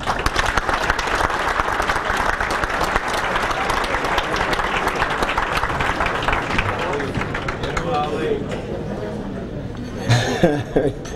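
Banquet audience at a Pennsylvania Sports Hall of Fame induction applauds and cheers loudly and steadily, a dense wash of clapping with scattered laughter and voices that thins out near the end.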